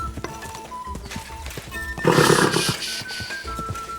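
A horse in the medieval video game Kingdom Come Deliverance II gives a loud neigh amid game sounds and hoof clatter, one clear whinny rising midway.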